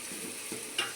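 Tempering for a fish curry in a pan: a faint sizzle of frying with soft stirring scrapes and one brief sharper crackle near the end.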